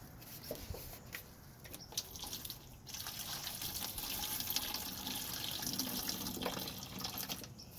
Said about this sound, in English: So let me put some water in the watering can.